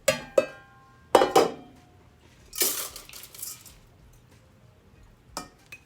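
A utensil scrapes rice off a plate into a rice cooker while cooking Jamaican rice and peas. Several sharp clinks and scrapes of metal on crockery come in short bursts separated by quiet gaps.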